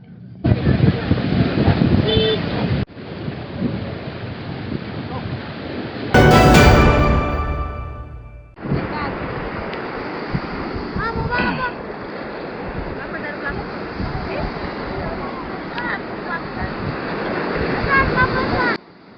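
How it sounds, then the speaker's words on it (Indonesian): Strong wind and rough waves batter the sea off western Seram, Maluku, during two days of bad weather, a loud continuous roar of surf and gusting wind, briefly broken by a sharper splash or rushing burst midway. "Cuaca buruk yang menghantam perairan Seram bagian barat berlangsung 2 hari terakhir."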